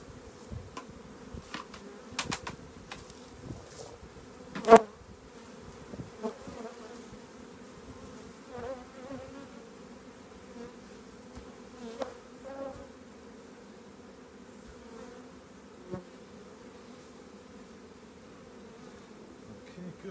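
Honey bees buzz steadily around an opened hive during a colony merge, a dense close hum with scattered louder passes of single bees near the ear, no talking.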